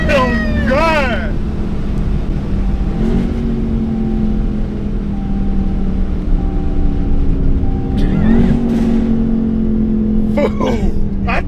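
A supercharged Dodge Durango Hellcat accelerates hard in a street race against a 392 Scat Pack, its loud engine rising and falling in pitch through repeated pulls while excited voices shout over it.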